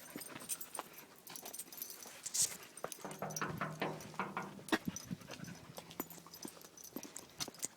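A puppy pads through a tunnel with a glassy floor, its paws tapping in a quick irregular patter while faint whimpers and panting come through, close and quiet, with no talking.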